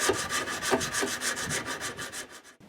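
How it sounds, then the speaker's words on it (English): Wood is sanded by hand down to bare wood, removing paint, in quick, even back-and-forth strokes, a close raspy scrubbing rhythm that stops abruptly at the end. "hand sanding for hours and hours at a time"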